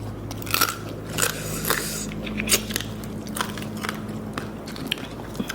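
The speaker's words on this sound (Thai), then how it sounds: "กรอบๆจ้ะ เคี้ยวนังกรุบ ๆ เลย" Pickled rice-field crab crunches loudly between the teeth, with sharp, close, repeated bites and crackling chews coming in an uneven rhythm.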